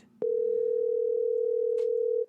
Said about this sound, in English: at least we can hear the phone ringing